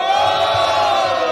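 At a rap battle, a crowd's shout bursts out and holds loud for just over a second.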